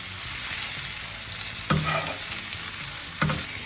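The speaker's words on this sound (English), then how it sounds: "you want to just kind of start stirring it around, and you'll see that it will start to wilt a little bit" Spinach wilts and sautés in a pan, giving a soft, continuous sizzle. Two distinct scraping knocks from the stirring utensil land about a second and a half apart, with no talking.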